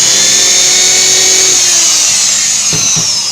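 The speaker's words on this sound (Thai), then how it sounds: "อันนี้คือเทคนิคเล็กๆน้อยๆนะครับที่เอามา เจาะลูกตุ้มนะครับ" A drill bores into a brass counterweight from a Zhiyun Smooth-C 3-axis phone gimbal, giving a loud, steady high-pitched whine that dips near the middle, then two short grinding bursts toward the end.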